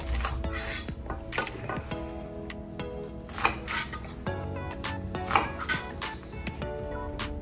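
Knife slicing vegetables for adobong sitaw, a series of irregular clicks and taps on a cutting board, fairly faint, with soft scraping between cuts.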